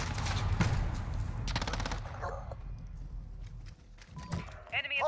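Gunfire during a Modern Warfare video game match: dense rapid automatic shots early, then scattered bursts fading, mixed with game effects and a player talking over it.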